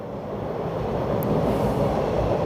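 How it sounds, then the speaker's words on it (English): A Toronto subway train rumbles past at close range, a steady loud roar of wheels on rail that swells slightly as it goes by, with no talking. "Let's watch some subway action."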